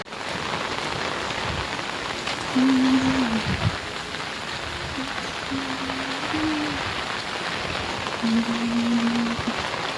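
Monsoon rain falls steadily and heavily in a Gujarati village, a continuous hiss of drops on surfaces with a few brief tonal whines mixed in, no talking.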